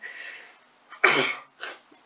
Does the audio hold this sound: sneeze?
yes